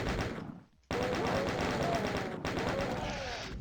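In the game DOOM, gunner enemies fire in a rapid, continuous chaingun stream, loud and dense, cut by a brief gap of near silence before the barrage resumes.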